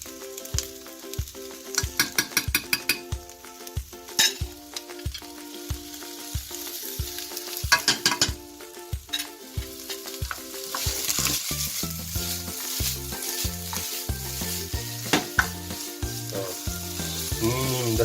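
Ginger and garlic fry and sizzle steadily in a hot pan for chicken tikka jalfrezi, with repeated stirring scrapes and clinks over a constant crackling hiss, close and alone without talk.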